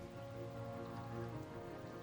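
Steady rain falling as ambient background in a tabletop role-play, a soft, even patter with a faint, low hum underneath and no voices.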